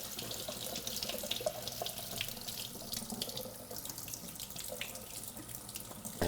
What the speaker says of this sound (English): you should be able to just rinse it out with water like this.